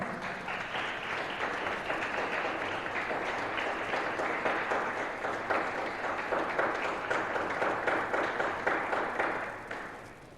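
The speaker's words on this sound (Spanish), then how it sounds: "Démosle un aplauso a Cristo el Señor." A church congregation applauds steadily for about ten seconds, a dense wash of many hands clapping together, fading out at the very end.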